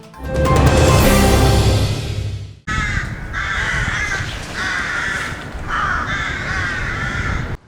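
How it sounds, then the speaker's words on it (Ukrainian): Crows cawing en masse from old plane trees where they nest on a town street in Mukachevo, a loud, dense chorus of harsh repeated caws in an urban setting, with no talk. "Тут на багаторічних платанах масово гніздяться ворони"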